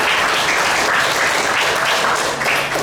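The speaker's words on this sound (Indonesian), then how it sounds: "Tepuk tangan untuk SMA Negeri Utara." A crowd at an inter-school quiz contest in Labuhanbatu applauds a high school team, loud, dense and continuous clapping that holds steady without pause.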